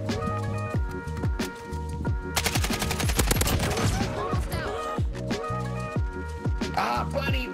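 An AK-47 fires in a video game, dense bursts of automatic gunfire alternating with single cracks, sharp and close throughout with game sounds behind.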